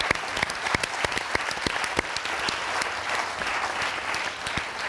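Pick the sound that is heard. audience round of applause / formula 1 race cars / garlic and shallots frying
audience round of applause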